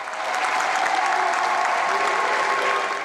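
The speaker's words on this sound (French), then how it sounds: "Les fidèles applaudissent et se lèvent." A congregation applauds as people rise to their feet, a full, sustained burst of clapping that swells in and holds steady before easing at the end.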